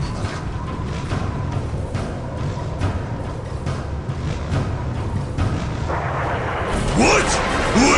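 Artillery fire in Dawn of War Winter Assault, a battle din of booming blasts and rumbling impacts beneath game noise, with a voice speaking over it and rising whistling sounds near the end.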